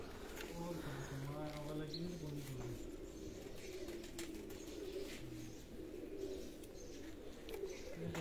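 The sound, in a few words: pigeons cooing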